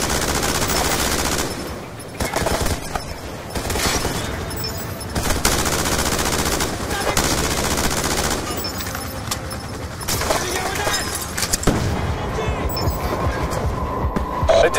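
Automatic weapon fire from the Black Ops 2 game battle in Singapore rattles loudly and continuously throughout, dense bursts layered over rumbling combat noise and radio chatter.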